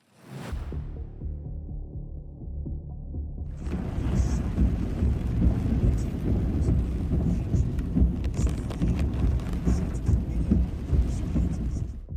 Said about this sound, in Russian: Мощный атмосферный фронт, принесший сильные ливни и ураганный ветер